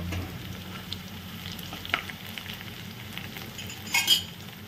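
Crushed garlic and cumin seeds frying in hot oil, a close, steady crackling sizzle with light spatula scrapes and a brief clink of utensils near the end, no voices.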